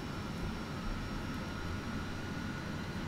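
A Boeing 747-8I's number four engine starts up in Microsoft Flight Simulator, giving a steady, even jet roar with a faint high whine that holds throughout, with no one talking.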